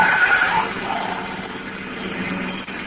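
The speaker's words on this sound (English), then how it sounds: "George, look out that car!" Car tyres skidding with a loud squealing rush that fades into road noise as the car swerves to run someone down.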